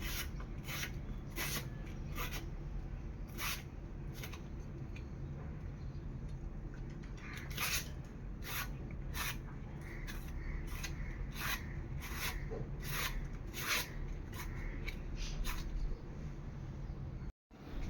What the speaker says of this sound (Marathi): केळी आहेत ना, आपल्याला सोलून त्याचे काप करून घ्यायचे आहेत।